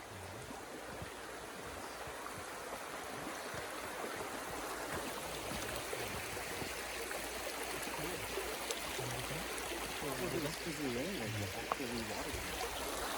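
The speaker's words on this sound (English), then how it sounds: "we're coming up on this river. It's more like a stream, but you can definitely hear it." A shallow desert stream flowing over rocks on a sunset hike at Boynton Pass, a steady close wash of running water that continues without a break, with faint footsteps mixed in.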